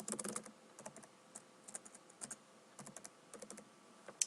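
Typing on a computer keyboard during a software walkthrough: quick irregular clusters of soft, close key clicks with short pauses between bursts, fairly quiet and with no voice.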